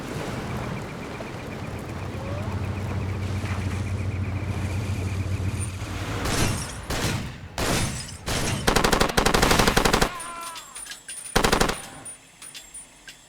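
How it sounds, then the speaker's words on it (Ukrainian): Bursts of rapid video game gunfire in Far Cry 2 erupt after a quiet stretch, loud clustered volleys with short gaps between them, over a steady low background hum. "Так, хто там стріляє?"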